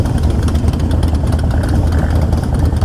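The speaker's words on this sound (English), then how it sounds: "start your engines." Motorcycle engines idling and revving at a gentleman's charity motorcycle ride gathering in the UK, a loud, continuous low rumble with a throbbing pulse and no clear break.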